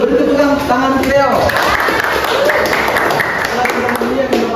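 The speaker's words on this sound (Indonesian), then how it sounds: "Beri tepuk tangan untuk Leo." A classroom at an Islamic senior high school erupts in clapping from a group of students, steady and dense throughout, with a teacher's voice speaking over it.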